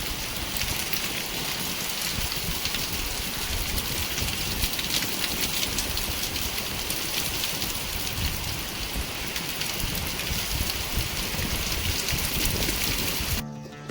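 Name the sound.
heavy monsoon rain with strong wind in the mountains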